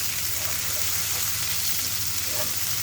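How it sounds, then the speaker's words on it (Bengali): Whole spices sizzle and crackle steadily in hot oil as a tempering for dal, a dense, close frying hiss with no voices. "এখন আমি বাগার দিয়ে দিব।"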